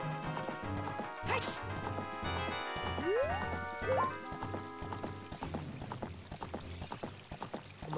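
Hooves of a horse clip-clop in the game The Legend of Zelda: Ocarina of Time, a steady rhythmic trot of hollow knocks over background game music, with a brief whinny-like sliding tone midway.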